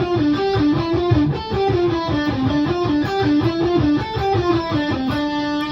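A distorted electric guitar plays a repeating melodic phrase over a steady beat, loud and close, with no talking.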